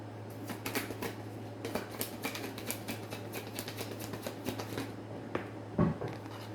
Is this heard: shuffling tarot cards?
yes